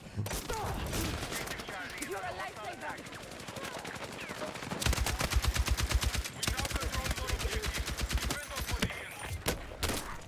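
Gunfire in a Battlefield 6 Escalation match, including a light machine gun: loud, continuous automatic fire with dense rapid bursts that grow more sharply rhythmic midway and keep going throughout.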